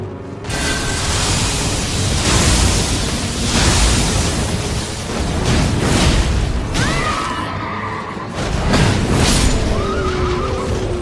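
A Night's Cavalry horse rearing up and neighing in Elden Ring, several loud whinnies over a dense, rumbling wash of game noise and hoof movement, with no voices.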